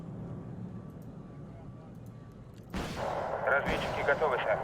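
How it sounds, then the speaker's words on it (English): Missile launches and gunfire aimed at helicopters in the war strategy game Wargame: Red Dragon, with a sudden loud whooshing blast arriving over a low battlefield rumble, followed by a second burst of crackling fire. "We already have missiles firing at some of those choppers."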